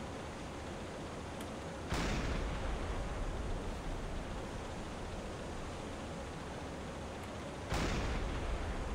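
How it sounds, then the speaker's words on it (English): A ship explodes in a WWII naval U-boat video game, sounding as two sudden booming blasts several seconds apart over a constant roar of sea and engine noise, with no talk. "Ooh, something blew up."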